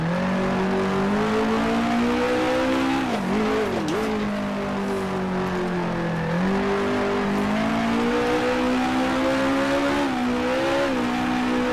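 A 1966 Formula One race car engine in the Grand Prix Legends game, racing at the 1966 South African Grand Prix. The engine drones loudly and continuously, dipping and rising in pitch as the car lifts off and reaccelerates through corners.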